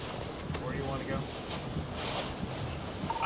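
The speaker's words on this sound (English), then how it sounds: "I am getting gusts over 100" Strong wind gusting past 100, roaring steadily against the microphone with broad, rushing noise that swells and eases over a few seconds.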